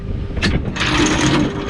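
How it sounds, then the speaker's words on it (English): Anchor rope paying out from a fishing boat on an overnight trip, a steady rough mechanical rattling and rushing whir, close and fairly loud, running continuously with no talk over it. "And that is the sound of the anchor rope going out"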